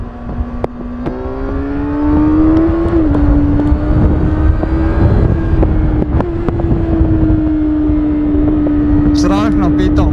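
A 2024 Kawasaki Ninja 636 rides along with a steady, loud engine drone that rises slightly then holds, while wind rushes past and the rider talks over it.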